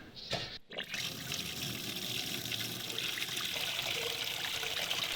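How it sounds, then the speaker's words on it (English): Water pours and trickles steadily as it is strained out of a pot of beeswax, a soft continuous splashing after a brief clatter at the start, fairly quiet. "we'll just strain off a little bit of the water first."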